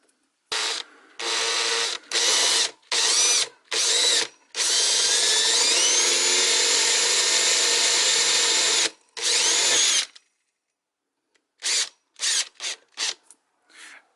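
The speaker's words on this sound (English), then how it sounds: "Do not put a lot of pressure onto the drill bit, and also keep the drill nice and straight" A power drill whirs into a skateboard deck in a series of short bursts, then runs steadily for several seconds, followed by a pause and a few more quick bursts.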